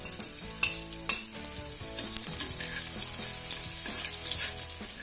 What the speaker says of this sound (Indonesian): Kalau minyaknya sudah panas, kita masukkan daun bawangnya,